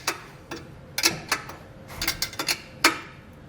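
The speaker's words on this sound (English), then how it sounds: "I'll just come back with a 17mm open-end box wrench here" A 17mm open-end box wrench snugs a bolt on a Roadmaster base plate for a 2019 Jeep Wrangler, making sparse, sharp metallic clicks and taps at an irregular pace, close up with no speech.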